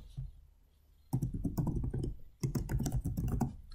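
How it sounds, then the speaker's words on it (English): Typing on a computer keyboard while entering a name: two quick runs of close, crisp key clicks with a short pause between them. "I'm going to come over here and type in my name"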